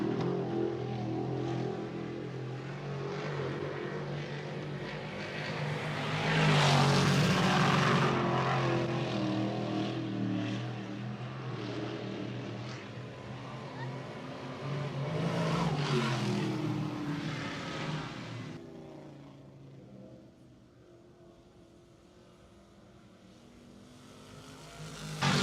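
Modified race cars, one with a 525 motor, roar down the front stretch into turn one at New Egypt Speedway. Engine noise swells twice as cars pass close under heavy throttle, then fades into the distance.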